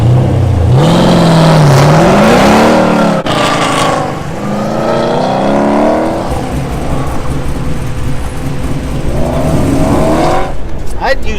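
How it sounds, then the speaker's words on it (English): A Mustang with an all-aluminum 427 small block Ford engine with AFR heads revs loudly at an autocross event, its rising and falling engine tones running under continuous talk. "Powering the Mustang is an all-aluminum 427 small block Ford with AFR heads, putting about 500 rear-wheel horsepower to the ground."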